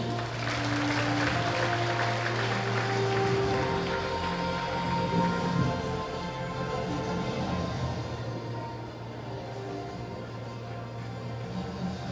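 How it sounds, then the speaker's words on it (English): An audience at a city thanksgiving, oath-taking and turnover ceremony applauds the outgoing city mayor. The clapping is steady and sustained over a constant background hum and tones, then thins slightly toward the end. "Give it up a round of reverberating applause for outgoing City Mayor Arthur Del Fierro Celeste"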